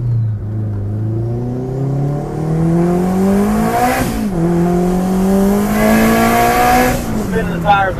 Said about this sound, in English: Spinning the tires the whole way.